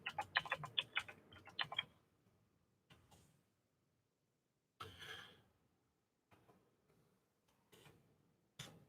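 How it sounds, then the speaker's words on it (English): Fast bursts of keyboard typing at close range in the first two seconds, then scattered single clicks and taps separated by quiet gaps, with no talking. "Let me type it for you."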